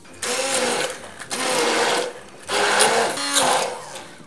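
A kitchen blender whirs in four short pulses, blending a salad coulis, each burst loud and close with brief gaps between.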